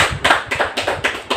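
Audience members at a monthly Hindi poetry gathering clap in a slow, regular rhythm, about six distinct close claps in quick succession.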